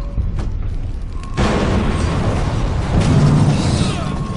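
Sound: explosions in video game Aliens Colonial Marines

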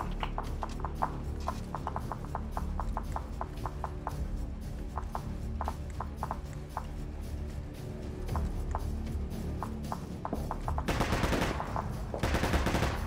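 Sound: RPK machine gun firing in a video game

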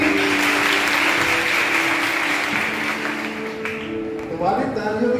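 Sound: audience applause

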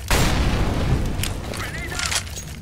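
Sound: grenade explosion in the video game CS:GO

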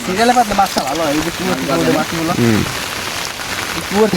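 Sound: rain falling on water and plants

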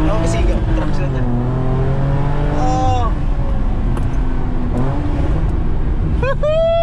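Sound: V6 car engine accelerating

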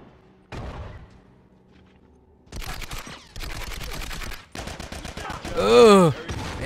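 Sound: Spectre gunfire in The Last of Us video game

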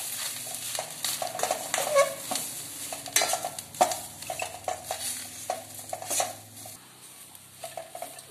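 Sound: sautéing okra curry with coriander and sambar powder

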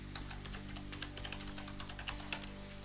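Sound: typing Docker Hub login ID on a computer keyboard

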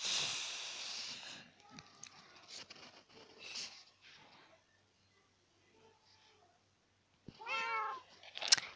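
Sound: cats meowing in a video game

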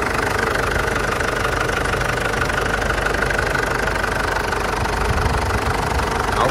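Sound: diesel car engine idling

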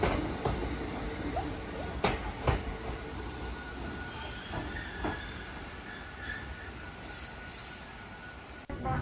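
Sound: Hakone Tozan Railway air-conditioned train car arriving

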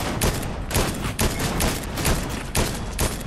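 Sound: gunfire in the video game Fortnite

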